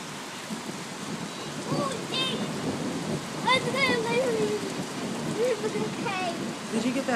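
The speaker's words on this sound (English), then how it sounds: "Did you get that big thunder too?" A thunderstorm with steady rain and deep rolling thunder, recorded close by in the open, while people react in the foreground.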